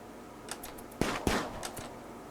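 Turrets firing in the Rimworld video game, a few sharp, fairly faint shots in a brief irregular burst, with no talk.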